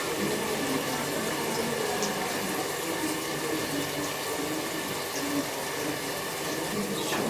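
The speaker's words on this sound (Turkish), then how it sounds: "Şöyle suyumuzu ilave ediyoruz şimdi." Water pours steadily into a soup pot, a continuous close rushing splash that stays even from start to finish.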